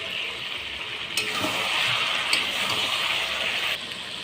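Marinated chicken and fried potatoes sizzle steadily in hot oil while being stirred and sautéed, a continuous close hiss with a few sharper scraping clicks from the stirring, and no talking.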